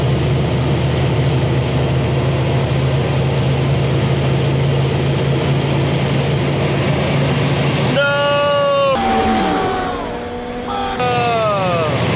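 A loud, steady rumble of a passing train fills the whole stretch, with squealing, shifting metallic tones toward the end.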